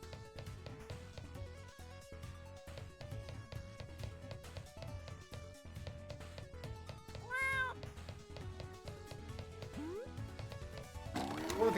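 In the video game Escape From Ever After, a cat meows over looping game music, with a drawn-out wavering meow midway and another near the end, set against steady rhythmic beats.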